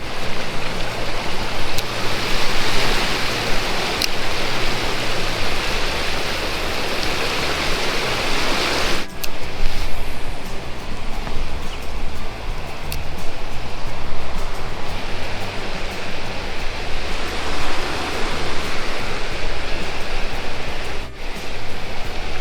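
Waterfalls pour into a rushing river current on a cold day, a dense, continuous roar of churning water filling the whole stretch, close and loud, with no voices.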